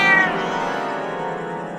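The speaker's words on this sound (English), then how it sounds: "Is that you, cats?" A single drawn-out cat meow, loud and close, tapering off over under two seconds with no other sounds.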